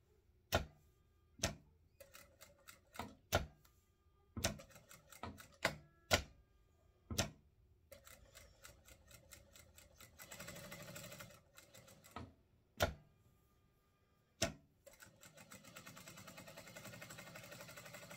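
A domestic sewing machine stitching around a cotton oven mitt, heard as short whirring runs of rapid ticking stitches broken by sharp clicks and pauses, quiet and close with no talk.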